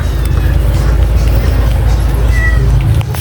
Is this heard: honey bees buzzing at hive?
no